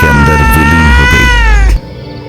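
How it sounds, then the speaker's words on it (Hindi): A black cat gives one long, loud, mournful meow that wavers and slowly falls in pitch before cutting off abruptly into quiet background. "काली बिल्ली एकटक हरिराम की ओर देख रही थी। फिर करुण स्वर में म्याऊं म्याऊं करते हुए जंगल के अंदर विलीन हो गई।"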